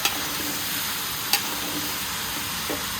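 Pumpkin being stirred in a stir-fry pan, a steady soft sizzle with a couple of sharp scrapes of the utensil, fairly quiet and close, no talking.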